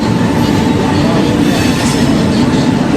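A train rolls into platform 4 at an Indian railway station on the Coimbatore–Erode route, a loud, steady roar of wheels and carriages close by with faint squealing, and no break in the noise.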